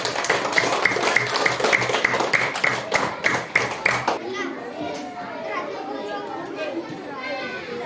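Students in a classroom clap for a presenting group, a few seconds of rhythmic, fairly close clapping amid children's chatter, then the clapping stops and kids' voices and classroom noise continue.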